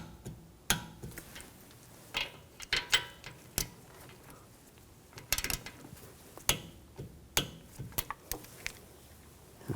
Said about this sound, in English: Torque these bolts to 27 foot-pounds.